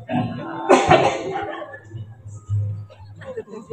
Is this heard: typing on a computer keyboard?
no